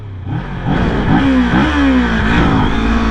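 A motorcycle engine revs up close, its pitch climbing and dipping through several short throttle blips over a steady idle rumble.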